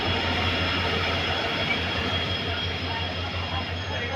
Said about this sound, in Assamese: ফাইনেলি আমাৰ এখন ট্ৰেইন আহি গ'ল